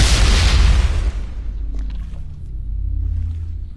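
A grenade blast in the sci-fi zombie shooter Dead Effect 2 booms loud and close, a deep broad explosion that decays over about a second into low rumbling game ambience.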